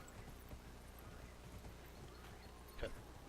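Horse galloping in Dragon Age: Inquisition, with quiet, quick hoof clip-clops running steadily under faint speech and a brief louder burst near the end.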